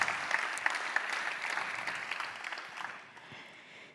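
Audience applause at the Omnia Retail Price Points Live 2022 conference, a steady patter of many hands clapping that gradually thins and fades out near the end.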